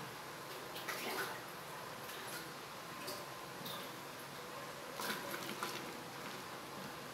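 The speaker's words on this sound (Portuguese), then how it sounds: "Agora vamos colocar mais 1 litro d'água." A litre of water is poured into a fabric softener mix, a quiet steady wash of liquid sound with faint scattered ticks and splashes, heard up close and with no talk over it.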